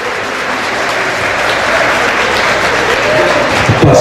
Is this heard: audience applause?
yes